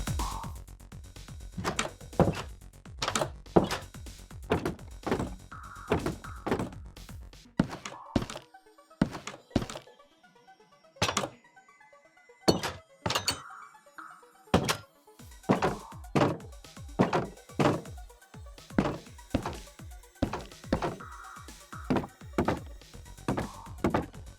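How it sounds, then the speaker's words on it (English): Wooden, bamboo and other Minecraft doors, fence gates and trapdoors opening and closing in a long run of sharp clunks and thuds, some in quick pairs, with a few short pauses between groups. "each type of door, fence gate and trapdoor has its own unique sound, including those made of bamboo"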